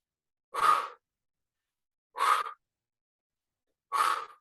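Three short, breathy mouth exhales, evenly spaced about every one and a half seconds, close and clear against silence during a standing breathing exercise.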